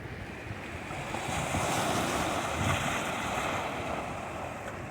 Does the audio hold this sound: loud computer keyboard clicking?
no